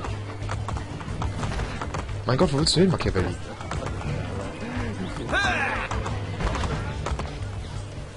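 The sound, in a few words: horse galloping in video game Assassin's Creed Brotherhood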